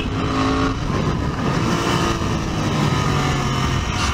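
A Royal Enfield Interceptor 650 or Continental GT 650 motorcycle under way, its engine revving and dropping as the slipper clutch works through downshifts into a corner, loud and close amid rushing wind with no talking.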